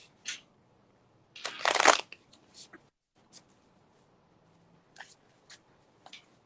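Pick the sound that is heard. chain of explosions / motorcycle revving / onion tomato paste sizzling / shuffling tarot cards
shuffling tarot cards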